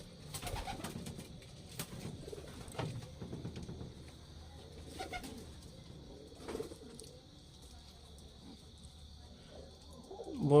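Pigeons coo at a pigeon farm in soft, repeated low calls spread across the scene, with occasional faint rustles and bumps in the background and no talking.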